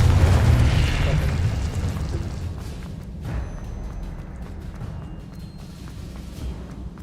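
Booming blast spell explosions in Hogwarts Legacy, a loud low rumble at the start that decays into a sustained rumbling roar, with a smaller thump near the middle.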